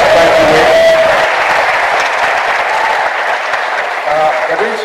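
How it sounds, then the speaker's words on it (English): Loud audience applause with cheering after a talk, a dense roar of clapping and crowd noise close by, with voices calling out over it throughout. "Please, another round of applause for Mr. Obinnia Abajue."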